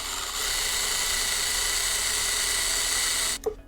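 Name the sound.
drilling with small drill bit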